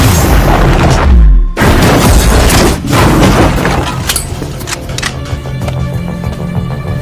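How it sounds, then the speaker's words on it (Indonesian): A sniper rifle gunshot in a film lands as a loud, deep boom near the start, followed by a second heavy impact and then tense cinematic music and rumbling effects with no talk. "ia pun langsung membidik Philip dari kejauhan dan menembaknya"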